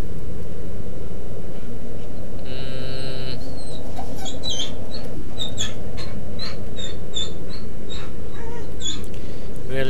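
A dog barks and whimpers in a repeated series of sharp, high yelps over a loud, constant low rumble of background noise.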